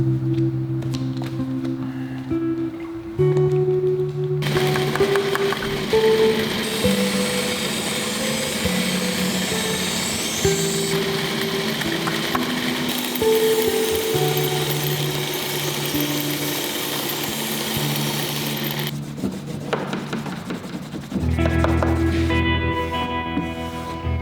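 A power tool grinds a secondary bevel onto a forged knife blade, a steady loud mechanical whine that holds for most of the stretch with shifting pitch as the blade is worked, then drops off near the end.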